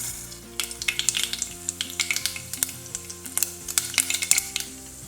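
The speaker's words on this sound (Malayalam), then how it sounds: "ഞാൻ അതിലേക്ക് 1/2 ടീസ്പൂൺ കടുക് ഇട്ട് കൊടുക്കുകയാണ്" Half a teaspoon of mustard seeds in two tablespoons of hot oil in a pan, crackling and popping in quick, irregular sharp bursts over a steady close sizzle.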